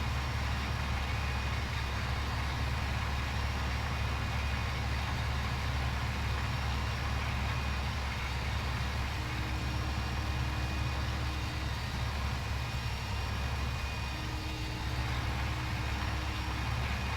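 A tractor engine in a farming simulator video game drones steadily at a constant pitch throughout, a loud continuous mechanical hum with no talk.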